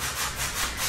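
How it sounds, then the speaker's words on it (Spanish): Hand-sanding of dried wood filler on a door, a close rhythmic scratchy rubbing with several back-and-forth strokes over a short moment. "Comenzamos lijando muy bien los espacios donde había echado la masilla"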